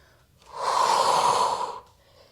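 Heavy, steady breathing during a Pilates mat exercise: one long, loud breath of about a second and a half stands out against quiet surroundings, with no talking.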